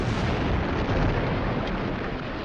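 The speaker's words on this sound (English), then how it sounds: "an explosion rocked the front end of the ship." A huge, sustained explosion roars through the battleship Maine, a dense rumbling blast that fills the whole moment, loud and enveloping with no voices over it.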